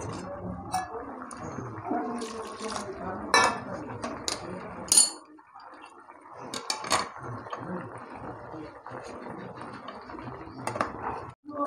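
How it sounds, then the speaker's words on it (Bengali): A metal spatula mashes hot boiled fresh tamarind in a cooking pot, giving irregular scraping, clinking and squelching knocks against the metal, fairly quiet and close, with brief pauses between strokes. "তো গরম আছে, সেই জন্য আমি হাত দিতে পারছি না, খুন্তি করে চটকে নিচ্ছি।"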